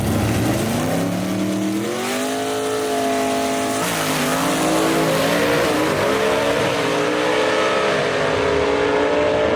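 A 1955 Chevy gasser drag race car called the Homegrown makes a run at Union Dragway. Its engine roars loud and close, and the pitch climbs through several gear shifts as it accelerates hard down the strip.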